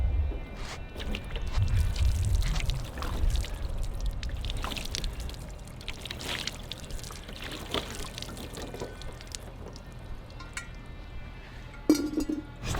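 Water splashes and pours steadily across a Ferrari's painted body, with a broad rushing wash that tapers off, followed by a couple of brief clinks near the end.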